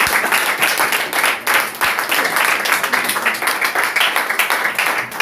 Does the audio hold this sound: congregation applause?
yes